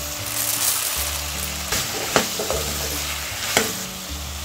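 Cut raw banana pieces sizzle in a pan of fried tomato as they are stirred, a steady frying hiss broken by a few sharp spoon scrapes and taps against the pan, close up with no voices.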